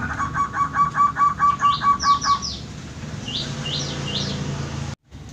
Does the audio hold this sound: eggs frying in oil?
no